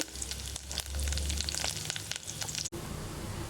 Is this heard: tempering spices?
yes